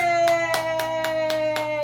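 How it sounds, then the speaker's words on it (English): A baby claps small hands at a homemade birthday cake celebration, about seven sharp, evenly spaced claps in quick succession over a steady sustained tone, close by. "You gotta clap, baby"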